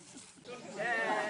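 Sheep bleating at a pensioners' summer camp farm in Võru, a wavering, harmonic call rising in the second half over background chatter and nearby voices.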